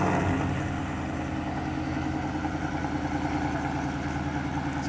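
A supercharged Coyote engine in a Ford F-150 King Ranch idles with a steady, rumbling low throb, loud and close, alone without voices.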